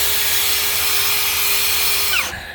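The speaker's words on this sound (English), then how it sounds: "Use the brush on the drill to agitate" A power drill fitted with a scrub brush whirs steadily against carpet mats from a Lexus LS430, loud and close, with a whining tone that drops as it winds down at the end.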